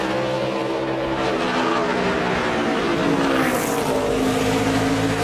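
Toyota NASCAR Sprint Cup race car lapping Bristol during qualifying, a loud, steady engine roar at high revs holding throughout, with a slight rise in pitch as the car powers through the turn.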